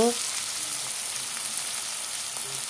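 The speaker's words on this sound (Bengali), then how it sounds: "তারপর দিয়ে দিলাম পেঁয়াজ। এখন পেঁয়াজগুলো ভেজে নেব।" Onions fry in oil after a bay leaf has browned, a steady even hiss of sizzling close up with a brief utensil sound at the start.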